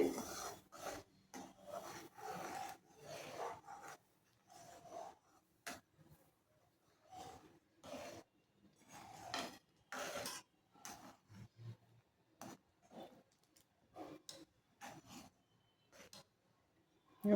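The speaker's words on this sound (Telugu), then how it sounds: "ఈ రవ్వ ఒక్కసారి పోయకూడదండి, కొంచెం కొంచెం ఇలా వేసుకుంటూ తిప్పుతూ ఉండాలి" Semolina (Bombay rava) being stirred into boiling water for upma, with irregular scraping and stirring strokes against the pot, faint and close, separated by quiet gaps, with no talk.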